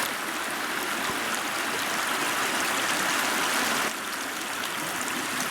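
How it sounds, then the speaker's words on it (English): Creek water cascading over rocks gives a steady, broad rushing wash close by, continuous throughout with a slight dip near the end, and no voices. "These are rocks cascading through the creek."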